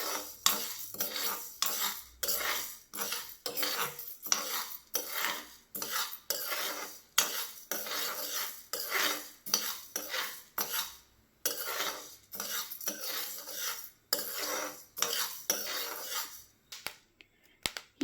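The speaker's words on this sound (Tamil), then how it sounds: "இதுலேயும் சவுண்டு வருது பாருங்கள், பட் பட்னு." Horse gram dry roasts in a pan over a low flame, with repeated crackling and scraping bursts at a steady rhythm, close up and fairly quiet.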